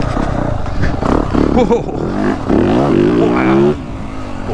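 Dirt bike engine, either a 2023 Beta 300 Race Edition or a 2023 Yamaha YZ450F Monster Edition, revving hard with sharp throttle bursts close by while a rider exclaims over it.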